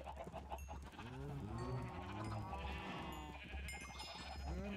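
Several sheep bleat in Minecraft, their calls overlapping in a steady run of wavering cries that stay close and fairly loud throughout, with no talk over them.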